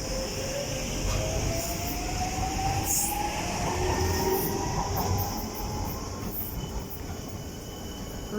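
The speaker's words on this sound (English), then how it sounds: "off goes to DLR service to Lewisham" A Docklands Light Railway train pulls away from Greenwich towards Lewisham, its steady rolling rumble joined by rising motor whine and brief wheel squeal, fairly close and continuous throughout.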